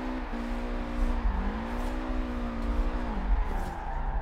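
A car's engine holds steady harmonic revs with pitch dips at gear or throttle changes while street drifting in Forza Horizon 4, played on a 900-degree wheel, with a continuous rumble throughout and no talk.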